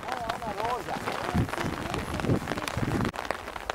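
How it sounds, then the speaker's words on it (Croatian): Light rain patters steadily during a mountain hike on Učka, between Veliki and Mali Planik peaks, a soft continuous hiss beneath people talking nearby. "Malo kišice nas ulovila sad tu."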